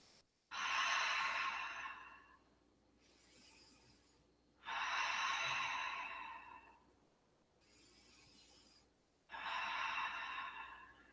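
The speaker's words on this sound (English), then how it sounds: "3 deep breaths here." Three slow, deep exhalations from a yoga practitioner in a studio, each a loud breathy rush lasting about two seconds, separated by quieter inhales and pauses.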